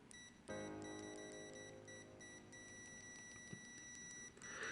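A RICHMETERS RM088 budget multimeter in continuity mode emits a steady, fairly quiet electronic tone once the probes touch, holding for several seconds with a slight flutter before it stops.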